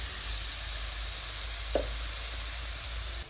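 Fish and pointed gourd fry in a cooked spice paste, giving a steady, fairly quiet sizzle throughout, with a brief clink or scrape partway through.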